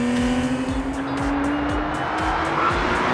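Acura NSX Type S with a mid-engine twin turbo, driven hard on track: a loud, close engine note rising steadily in pitch with rhythmic gear-change pulses and faint tire noise, no talk.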